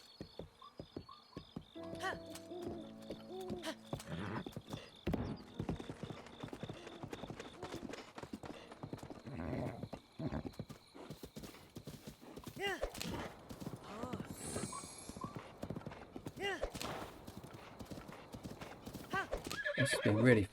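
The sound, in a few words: horse hooves clip-clopping and neighing in Zelda Breath of the Wild video game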